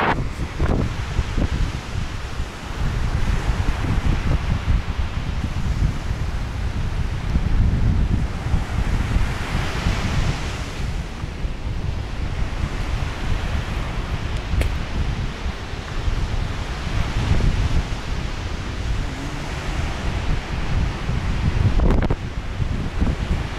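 Strong January wind buffets the microphone by the sea at the Alanya port, a loud continuous roar with gusting surges, mixed with surf and rustling.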